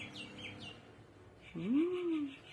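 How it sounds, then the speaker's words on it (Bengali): A single bird call rises and falls for under a second, close and clear, after a stretch of soft background chirping. "আওয়াজ পাচ্ছি, আমার ভীষণ ভালো লাগে পাখির ডাক।"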